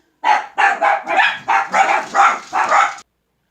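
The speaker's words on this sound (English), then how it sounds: "My dogs went crazy." Dogs bark excitedly indoors, about eight loud close barks in quick rhythmic succession, then stop abruptly.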